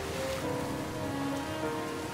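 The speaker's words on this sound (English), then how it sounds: "Oh, and it's raining." Steady rain falls in the video game Submerged: Hidden Depths, a continuous hissing wash with faint watery ambience beneath, constant and unbroken throughout.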